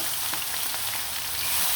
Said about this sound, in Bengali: সবগুলো মাংস আমি খুব সুন্দরভাবে লাল লাল করে ভেজে